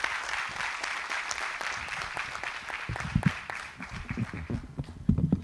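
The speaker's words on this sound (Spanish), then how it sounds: "Un aplauso, por favor," An audience at a formal lecture session applauds a speaker, a steady round of clapping from a moderate distance that gets louder and more uneven toward the end.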